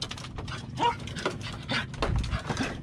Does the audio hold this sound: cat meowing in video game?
no